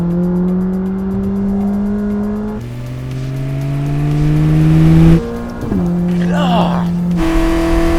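A McLaren 600LT MSO supercar, rated over 800 hp, accelerates hard, its engine note climbing through repeated gear pulls with brief drops between shifts, loud and close inside the car with a short squeal near the end.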